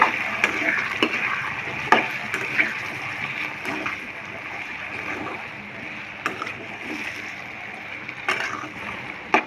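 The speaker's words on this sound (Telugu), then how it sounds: "స్టవ్ని మీడియం ఫ్లేమ్లో పెట్టుకొని వీటిని వేయించుకోవాలి" Potato pieces salted and frying in a pan over a medium flame give a bright, steady sizzle close by, with intermittent spatula scrapes and taps as they are stirred.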